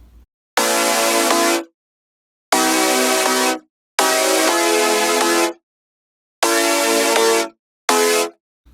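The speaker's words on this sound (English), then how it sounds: "I've got this chord progression that has no reverb on it right now." Dry chord progression with no reverb, five sustained harmonic chords of varying length separated by clean silences, each cutting off abruptly with no tail, loud and close.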